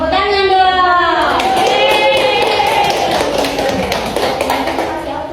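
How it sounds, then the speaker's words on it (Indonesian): Classmates clap after a group presentation in a university classroom, a dense burst of hand claps that carries on steadily for several seconds and fades a little near the end, with voices talking over it at the start. "Tepuk tangan dong"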